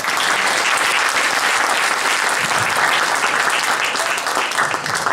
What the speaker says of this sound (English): Let's have another round of applause for both of them.